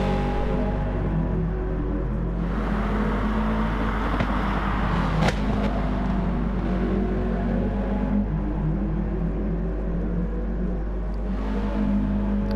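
Touring cars race around Laguna Seca in an online racing game, their engines blending into a steady loud rumbling drone with shifting pitch and occasional revving swells as the pack settles into position, no talk heard.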